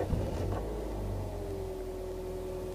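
Automatic 2007 Toyota Yaris engine catching and settling into a steady low rumble, with a faint whine rising in pitch, heard close and continuous.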